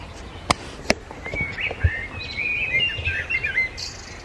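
Birds chirp and warble in a lively outdoor chorus, a few sharp clicks at the start, the song continuing steadily at moderate distance.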